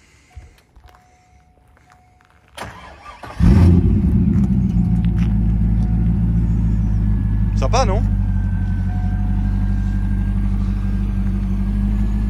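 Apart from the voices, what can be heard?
1998 Chevrolet Corvette C5 engine starting and idling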